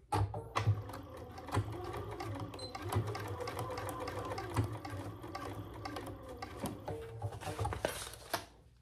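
A sewing machine runs steadily, stitching a seam on a bag hardware case with the stitch length set to 3, its rapid needle clatter continuous and close with brief pauses and slight speed changes.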